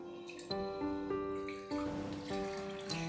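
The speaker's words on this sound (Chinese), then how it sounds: "首先将大米淘洗干净" Rice being rinsed in water for a home-cooked rice dish: splashing and trickling water with bright ringing tones and swishing bursts, close and moderately loud, with no voices.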